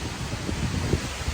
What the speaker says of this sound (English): Right, very windy down here.